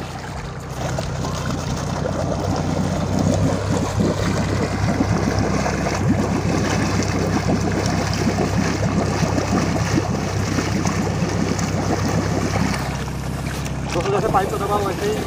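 A tractor exhaust fed through a very long homemade silencer pipe into pond water gives a steady, loud bubbling and churning with a low engine drone underneath, easing off near the end.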